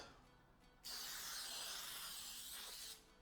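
Cooking spray hisses from a can onto a Madeleine pan in a single continuous burst of about two seconds, close and steady, after a quiet start, then stops abruptly.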